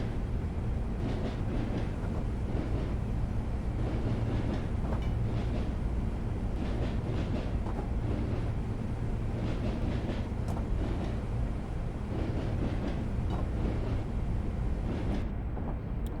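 A 1938 Tube Stock train on the Isle of Wight line in Train Simulator runs slowly with a steady rumbling roll and faint rail clicks, heard alone with no talk.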